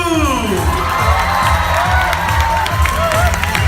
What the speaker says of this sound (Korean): 여러분들 다 같이 박수 주세요.